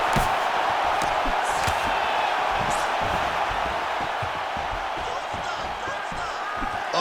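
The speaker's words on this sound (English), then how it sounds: "the crowd pops in appreciation" Arena crowd noise from the UFC 5 video game, a steady broad roar of cheering through a welterweight bout, loud and continuous for the whole stretch with scattered sharper thumps and shouts mixed in.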